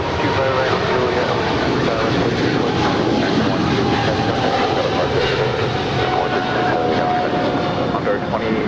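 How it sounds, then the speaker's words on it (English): A Boeing 777-300ER airliner, American 136, departs from LAX for London Heathrow, its broad engine roar steady and continuous with a voice talking over it throughout. "That is American 136 departing to London Heathrow. It's a 777-300 ER."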